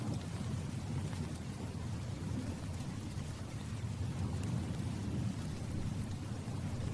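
A thunderstorm pours steady, dense rain, with a low rolling rumble of thunder underneath. The wash stays even and continuous throughout, at moderate loudness, with no voices.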